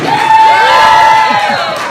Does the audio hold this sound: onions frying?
no